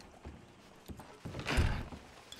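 A horse's hooves clip-clop in Red Dead Redemption 2, a few soft, uneven hoof falls that swell briefly, faint and fairly close, with no talking over them.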